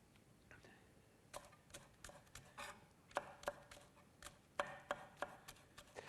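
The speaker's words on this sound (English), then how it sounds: "I've also got some spring onions, which I'm going to just slice quite finely." Spring onions are sliced finely with a knife on a board, a quiet close series of crisp irregular taps picking up pace.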